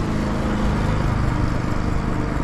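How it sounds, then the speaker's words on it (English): A lawn mower engine runs nearby, a loud, steady rumbling drone that stays constant throughout with no speech. "let's get by that lawnmower."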